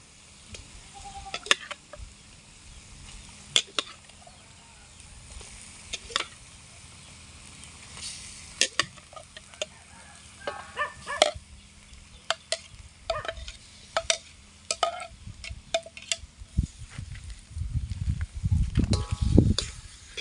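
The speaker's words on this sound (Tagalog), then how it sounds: "Gigisa lang natin ito saglit guys." Catfish and eel pieces sauté in a pan for eel adobo in coconut milk, with scattered sharp clinks and stirring scrapes over a low sizzle that swells louder near the end.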